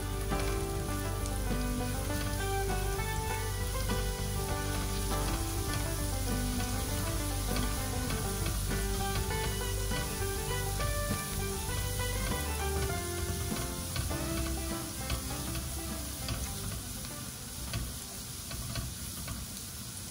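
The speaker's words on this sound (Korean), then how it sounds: "간마늘 1큰술을 넣고 마늘이 노릇노릇해질 때까지 볶아주세요." Minced garlic frying in olive oil in a wide pan, a steady close sizzle with light stirring clicks throughout, loud and continuous with no voices.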